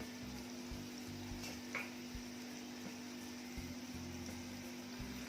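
Vada fritters for dahi vada sizzle in hot oil while they fry to golden, a soft continuous crackle and bubbling close by with a steady low hum beneath, quiet and without talk.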